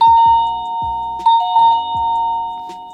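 A bright electronic chime from a waterproof smart doorbell receiver rings out loud and close, a repeating sequence of melodic tones with sustained high pitches, no voices.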